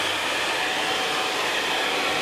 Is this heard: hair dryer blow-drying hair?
yes